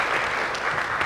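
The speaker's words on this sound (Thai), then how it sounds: "ขอเราปรบมือต้อนรับนะครับผู้ ดำเนินรายการนะครับดร. นำชัยชีววิวัฒน์นะครับ" An audience at a Thai research panel discussion applauds to welcome the moderator, a steady dense patter of clapping from a sizable crowd throughout the short moment.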